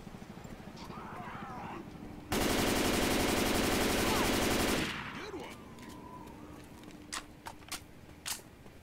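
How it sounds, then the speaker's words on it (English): A mounted machine gun in Left 4 Dead 2 fires one loud, continuous burst of about two and a half seconds on the port level's bridge, set between quieter stretches of game ambience and scattered clicks. "Besides the big machine gun."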